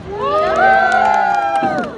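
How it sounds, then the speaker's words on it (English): A street performer's audience on Amsterdam's Dam Square cheers loudly for a volunteer, with whoops and shouts swelling together in a close, excited burst that fades after about two seconds. "We clap and cheer for Beth"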